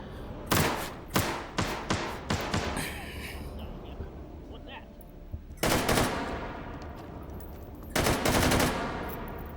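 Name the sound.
KF-7 Soviet (AK-74N) rifle gunfire in video game H3VR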